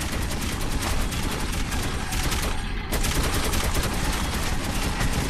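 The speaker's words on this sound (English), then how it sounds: "Who's shooting?" Dense, continuous automatic gunfire from the Metro 2033 video game roars without pause, a rapid rattling barrage that fills the whole stretch, briefly thinning for a moment before resuming at full intensity.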